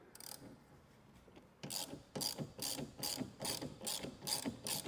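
Ratchet with a 13 mm socket removing the wiper nut on a C5 Corvette, clicking softly at first, then a steady run of about eight crisp, close ratcheting bursts.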